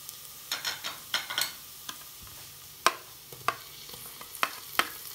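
Ginger and garlic frying with onions in a pan, giving a soft steady sizzle broken by irregular scraping stir strokes and light clinks, close and fairly quiet, with no talk.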